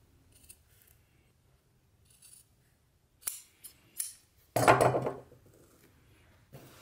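Scissors snipping through sheepskin shearling while cutting mitten pieces, a few short separate cuts with quiet gaps, then a louder crunchy snip, all close and alone with no talking.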